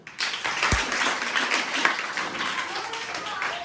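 Children in a government school clap together for the winner of an indoor game. The burst of claps is steady and fairly close, with voices mixed in.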